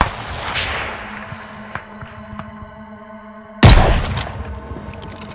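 Gunfire in the video game Call of Duty: Vanguard: a low rumble and scattered distant shots give way to a sudden loud, close burst of firing over a humming battlefield background.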